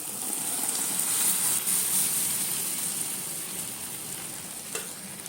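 Tomato juice poured over onions in a hot pan fizzes in a strong, even sizzle that continues steadily for several seconds, close and unbroken.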